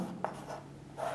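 A pen writing on paper during an English grammar lesson, a faint scratchy stroke heard in a couple of short quiet bursts with no talking.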